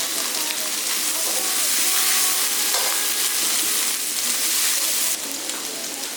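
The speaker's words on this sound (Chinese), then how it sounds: "锅烧热下油，先把肉末炒香。" Minced pork stir-frying in hot oil in a wok makes a loud, dense, continuous sizzle and hiss, close up, easing slightly near the end, with no one talking.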